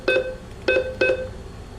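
Keypad beeps on a bank ATM while a phone number is entered, three short tonal bleeps, two close together and a third, clear and near with nothing else behind them.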